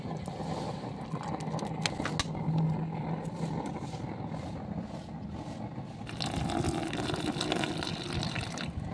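Liquid is poured to rinse scrap silver soaking in nitric acid, swapping the old acid for water and fresh acid: a steady close splashing pour that swells louder toward the end.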